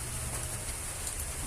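Steady rain falling outdoors, a continuous soft hiss with no talking.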